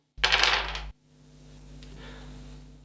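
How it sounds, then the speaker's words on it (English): Six dice in a tabletop board game clatter together in a short, bright rattle lasting under a second, close and loud, followed by a quiet pause and another brief clack at the end. "we have managed to roll on our 6 dice"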